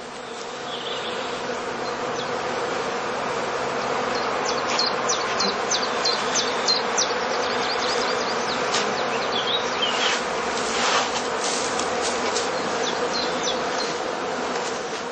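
Honeybees swarm around heather skep hives in a heathland apiary in spring, a dense continuous buzz close by with individual bees zipping past now and then, steady throughout with no talk.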